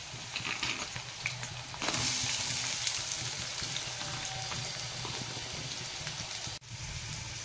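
Garlic and chopped onion frying in a pan for a spicy prawn masala, a steady close hiss and crackle of sizzling oil that swells louder partway through and carries on unbroken with no voices.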